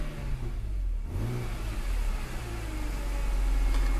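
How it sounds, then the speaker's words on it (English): A 2007 BMW Z4 M Roadster's inline six-cylinder engine revs, dipping briefly and then climbing into a strong, rising rev that stays loud and close to the end. "Wonderful sound from that inline six-cylinder."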